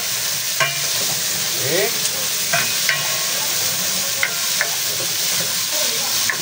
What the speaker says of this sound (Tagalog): Gigisa-gisa lang po natin yan, iprito-prito.